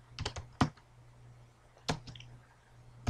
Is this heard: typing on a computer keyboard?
yes